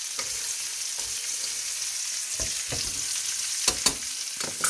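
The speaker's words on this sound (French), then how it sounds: "mon lapin est bien revenu. Voilà, il colore bien." Rabbit pieces browning in butter and a little oil in a frying pan give a loud, steady hissing sizzle, with a few spoon-and-pan clinks and scrapes near the end.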